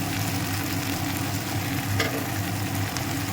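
Tilapia fish frying in oil in a kadai over a slow flame, giving a steady, dense sizzle and crackle that runs unbroken throughout at moderate loudness.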